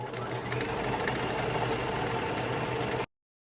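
A sewing machine runs long gathering stitches through thick curtain fabric, giving a steady, close, continuous whir for about three seconds before stopping abruptly.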